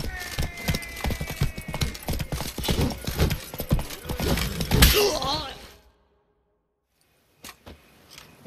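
Hooves of Roach, the horse in The Witcher 3: Blood and Wine, pound in a fast, busy gallop over about six seconds, mixed with clatter and game noise, then cut to near silence with a couple of faint later knocks.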